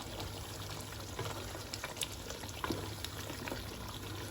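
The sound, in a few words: meat being added and mixed into oil and masala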